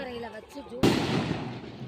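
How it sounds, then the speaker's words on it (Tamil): Firecrackers go off at a Tamil temple chariot festival for Veeramakaliamman in Athalur. A sudden loud blast is followed by crackling bursts, and a voice talks just before it. "இங்க பாருங்க, வெடிய டம்மு டம்முன்னு"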